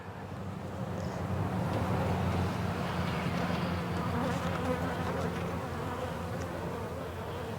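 A dense, continuous buzz of many honey bees swarming close by around an open hive, a steady low drone that holds for several seconds without a break.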